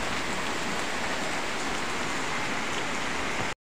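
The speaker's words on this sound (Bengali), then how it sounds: "দেখেন কি সুন্দর বৃষ্টি হইতাছে" Steady rain pouring down outdoors in Bikrampur, a dense even hiss of drops with no breaks, heard alone with no voices until it cuts off abruptly near the end.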